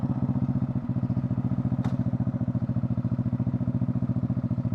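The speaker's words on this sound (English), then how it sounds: "It's just the baffles left, it's broke off. Or the resonator pipe, I mean, baffle. It's just rattling around in there like crazy." A Buell Blast motorcycle engine idles with a broken exhaust baffle. Rapid, even thumping pulses come close and loud, with a metallic clatter rattling inside the exhaust.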